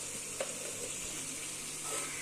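Soya chunks (meal maker) sizzle and fry in a pan while biryani is being made, a steady close frying hiss with faint stirring and no talk.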